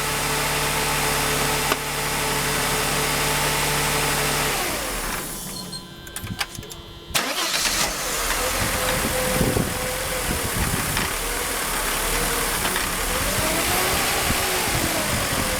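A Mercedes M104 engine with a suspected throttle body or deteriorating wiring harness fault idles steadily, cuts out, then restarts and settles into a rough idle whose revs audibly rise and fall as it hunts for RPM.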